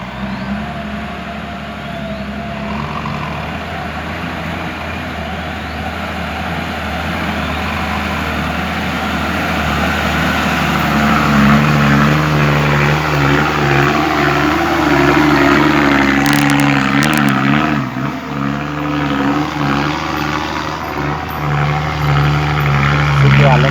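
Heavy earthmoving machinery, a bulldozer working alongside an excavator and dump trucks while dredging the bank of the Mun River, drones loudly with a rising, labouring engine note that swells midway and holds strong to the end.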